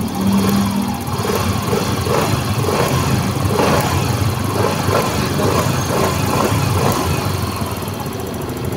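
A Yamaha Mio 125 scooter engine runs close by after a throttle position sensor reset, holding a steady, slightly rough idle with throttle blips and revs throughout, with no talking over it.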